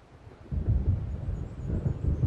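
Thunder from an approaching storm in the video game Alan Wake rumbles deep and heavy, swelling after a quiet start into a rolling, sustained growl with faint wind behind it.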